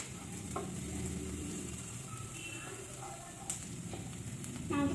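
Sliced onions sauté in a hot pan while Maggi noodles are being cooked, giving a steady low sizzle with occasional stirring scrapes and clinks, and a voice talks faintly underneath.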